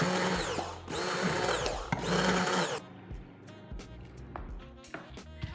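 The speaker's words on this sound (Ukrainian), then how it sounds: "і блендером все це переб'ю." Two loud bursts of an electric blender whirring through a strawberry filling with starch, each about a second long, then quieter clattering and handling noises.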